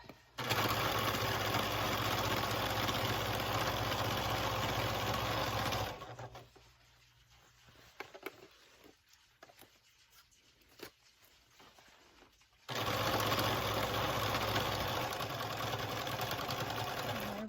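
A sewing machine stitches an elastic waistband onto a pair of sewn pants, running loud and steady for several seconds, pausing into near quiet, then starting again with a second sustained stretch of stitching.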